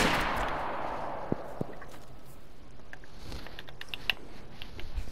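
Gunfire in DayZ as a magazine is emptied: a loud opening blast fades into a hissing tail, followed by a few scattered, fainter shots over low background noise.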